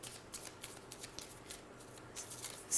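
Tarot cards are handled and drawn, giving soft, close papery shuffling and flicking in quick, irregular bursts at low volume.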